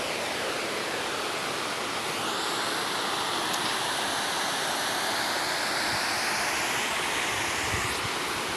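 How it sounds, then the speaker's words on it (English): A village river rushes over rocks near a waterfall, a loud, dense, continuous roar of flowing water that never lets up. "So that is the river."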